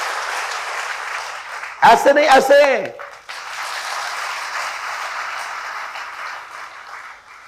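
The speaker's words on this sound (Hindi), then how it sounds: "पहले तो ताली बजाओ" An audience claps in applause at a spiritual discourse, a steady wash of hand claps continuing throughout, briefly interrupted by someone speaking, then resuming as a sustained moderate ovation.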